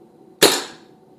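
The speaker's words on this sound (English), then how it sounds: "So 15 shots out of a budget CO2 gun" A budget SMK Victory CP2 .177 CO2 air pistol fires one sharp, loud shot up close, with a quick crack and a short fading hiss afterward, otherwise quiet.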